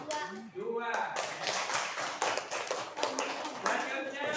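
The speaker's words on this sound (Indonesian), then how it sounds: "Silakan tepuk tangan dulu buat kelompok 2." Applause from a classroom of students for a presenting student group, a dense burst of many hands clapping close by that fills the short stretch after a brief opening sound.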